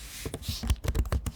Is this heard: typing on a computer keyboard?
yes